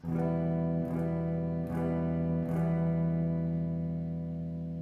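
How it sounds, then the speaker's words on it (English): Four even down strums on a guitar, each chord ringing into the next with a light effect, steady and close with no talking. "So I might just do 4 down strums like this."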